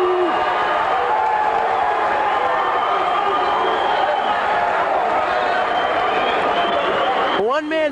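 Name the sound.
basketball crowd cheering and booing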